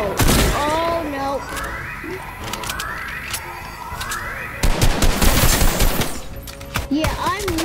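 An assault rifle in Fortnite Battle Royale fires loud, rapid automatic bursts, with breaks between strings of shots, alongside other game sounds and some voice.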